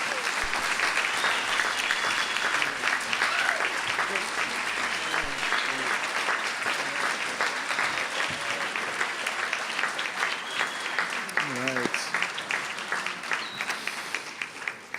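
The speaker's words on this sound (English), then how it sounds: "Let's please another warm round of applause for all three speakers." Audience applause for three speakers at a jazz school graduate recognition ceremony, dense sustained clapping from a sizable crowd lasting the whole stretch, with a few faint voices underneath.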